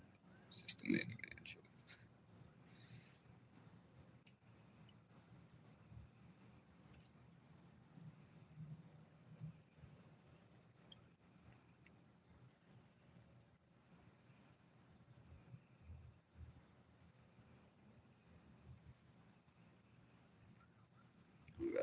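Crickets chirping in a quiet outdoor setting, a fast steady pulsing trill repeating in regular bursts, fading partway through, with faint low background noise.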